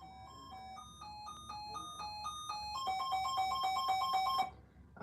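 An elevator chime sounds as a quick run of bright, bell-like electronic tones in a repeating melodic pattern, fairly faint, then cuts off.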